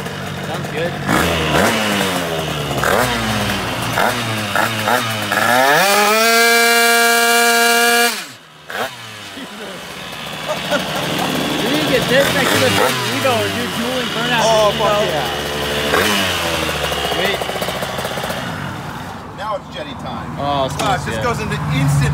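Derbi 94cc two-stroke engine on an RC bike, revving loudly with a rising, buzzy whine that climbs, holds and cuts off. Voices talk around the engine noise.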